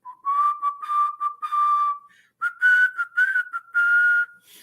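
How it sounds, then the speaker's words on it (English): A clear, loud human whistle, the kind that signals everyone in the streets, repeats a short melodic phrase several times in steady bursts, close and alone with no talk. "When you hear that whistle, you know what time it is."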